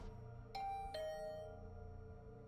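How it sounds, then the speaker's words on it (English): Two bright chime tones of a doorbell ring in the video game The Hundred Line, the second note sustaining and fading over a low music bed, with no talking. "The bell rang again."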